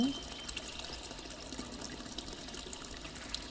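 Noodles tip into a pot of water for a homemade egg chicken noodle pasta, giving a faint, steady watery hiss and trickle that runs the whole stretch without a clear break.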